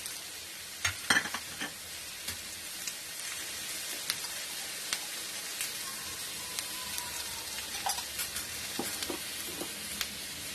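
Lentil dumplings (bori) frying lightly in hot oil, a soft steady sizzle with scattered pops and crackles, a few sharper spatters standing out near the start and middle, no voices.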